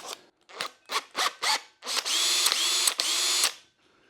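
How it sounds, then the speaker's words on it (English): A power drill fitted with a 51mm hole bit cuts into a PVC rain gutter, giving five short bursts and then a longer steady grinding run that stops abruptly. "it's time to drill those holes now for the net cups to sit in"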